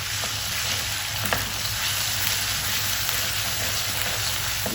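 Steady, loud sizzling of ginger garlic paste frying in hot oil, a dense crackling hiss with a faint stir or two, no voices.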